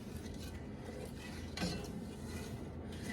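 A spoon scrapes and stirs caramel around the inside of a pot, a soft continuous rasping with a brief louder clink midway.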